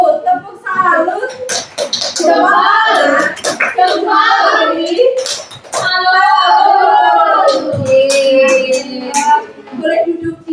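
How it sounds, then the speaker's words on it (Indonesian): Children in a classroom doing a rhythmic clapping chant, sharp hand claps punctuating their loud sung and spoken voices in a patterned rhythm, close by. "Oh, ini kasih tepuk salut dulu."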